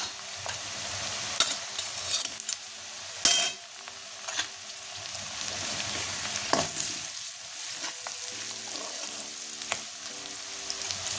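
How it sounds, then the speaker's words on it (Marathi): Onions with turmeric fry in a pan, a soft constant sizzle broken by several sharper scrapes and clatters of a spoon stirring them, close up with no voices. "कांदे आपल्याला ब्राऊन करून घ्यायचे।"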